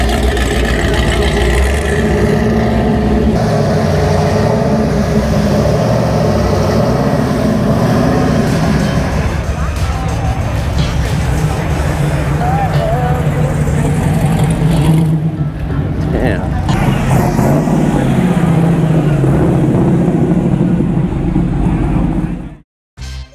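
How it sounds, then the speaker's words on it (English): The 800-horsepower engine of a Chevelle idles and rumbles loudly nearby at a car cruise with a deep, lopey throb, revving slightly at times before cutting off abruptly. "His 800 horsepower Chevelle."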